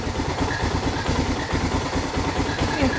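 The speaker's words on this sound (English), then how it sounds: "Seems to be idling a little rough." A Suzuki DR650 motorcycle, an old garage find, idles roughly up close, its single-cylinder engine pulsing in a steady but uneven chugging rhythm that stays loud throughout.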